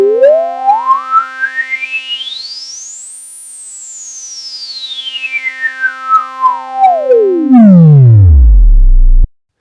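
Behringer Vintage synthesizer with its resonant filter pushed to a whistling tone, a clear sweep rising to a high peak and falling back down over a held chord, closing with a loud low buzzing note before cutting off.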